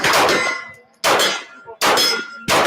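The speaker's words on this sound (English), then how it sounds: "Hearing a lot of pew pew pew here." Steel targets at a TriggerCon shooting range ring out with three loud, sharp clangs about a second apart, each leaving a bright metallic tone that fades before the next hit, with no voices.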